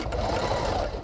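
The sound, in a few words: sewing machine used for making wigs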